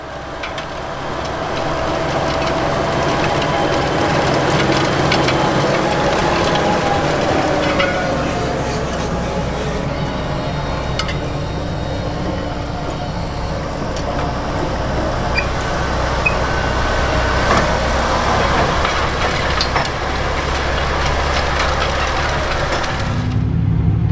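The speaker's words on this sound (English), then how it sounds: "I'm up in the cab of a CLAAS XERION 5000, and it's running here with a DEGELMAN Pro-till, working up ground" CLAAS XERION 5000 tractor pulling a DEGELMAN Pro-till disk at high speed through field ground, heard from inside the cab as a steady, loud engine and driveline roar with rattling implement noise, unbroken throughout.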